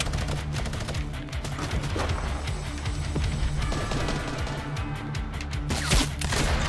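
Continuous loud gunfire and impacts in the video game Fortnite, dense rattling bursts with sharper cracks near the end, no clear talk.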